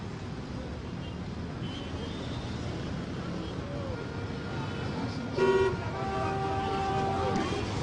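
Busy traffic at the Dodoa intersection, with a constant rumble of cars and a loud car horn toot near the middle followed by more honking. Voices are faintly mixed into the street noise.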